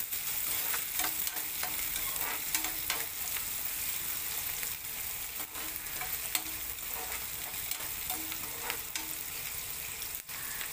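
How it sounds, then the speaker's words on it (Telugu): Thinly sliced onions fry in oil in a pan for a fish curry, giving a soft, continuous sizzle with intermittent scraping clicks as they are stirred, fairly quiet and without speech. "ఉల్లిపాయలు మగ్గనిద్దామండి"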